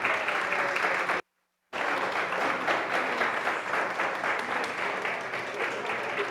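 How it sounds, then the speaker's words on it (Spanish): A church congregation applauds the teachers with steady, sustained clapping that fills the room. It breaks off for a moment of silence, then carries on at the same even level. "Un aplauso a ellos."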